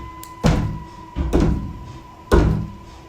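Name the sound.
banging on a bathroom door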